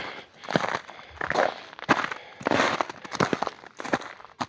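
Crunchy footsteps on hard, icy snow crust in a winter forest, a steady series of crisp steps close by with sharp crackling on each stride.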